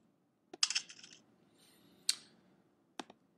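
A Mac makes its crumpling trash sound as a zip file is moved to the trash, heard as a few short, sharp clicks and rustles spaced across a quiet background.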